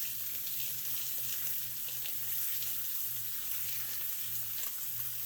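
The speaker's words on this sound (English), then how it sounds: "Let's throw the ribeye dried steak on now" Ribeye steak sizzling in a 350-degree pan with butter, olive oil and onions, a steady quiet frying hiss with a faint pulsing hum underneath, no one speaking.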